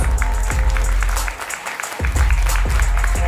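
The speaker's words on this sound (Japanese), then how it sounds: "アダルトリオの3人に大きな拍手をお願いします" A crowd at a 3vs3 U-22 MC battle rap event applauds in a loud, brief burst. Heavy, thumping bass beats at regular intervals dominate underneath.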